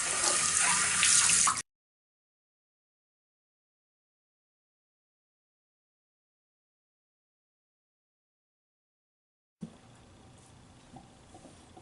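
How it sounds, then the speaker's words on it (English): Tap water running into a sink during face rinsing after a traditional wet shave, a steady splashing stream heard briefly at the start and again near the end, with a long silent gap between. "I'm gonna go rinse the face and I'll come back for pass number 2."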